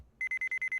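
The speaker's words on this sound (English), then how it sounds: "Beep." An electronic card reader in Phoenix Wright: Ace Attorney gives a rapid train of about seven identical high-pitched beeps, crisp and evenly pulsed after a brief silence, with no talking over it.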